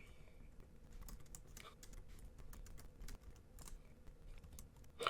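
Someone types on a computer keyboard at a desktop editing setup, the keys clicking in quick, irregular bursts that sound close by but fairly quiet.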